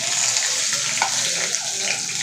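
Garlic frying in a tempering of oil with mustard seeds and cumin for a Marathi-style kadhi, producing a continuous close sizzle with light crackling and stirring throughout and no speech.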